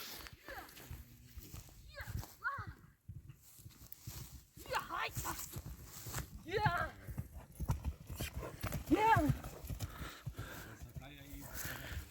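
Hooves of a ridden horse clip-clopping at a slow walk on hard ground, with people chatting and laughing throughout.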